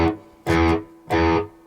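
Two short, punchy bass-guitar bursts with a slightly distorted edge, each a quick flurry of notes separated by a brief gap.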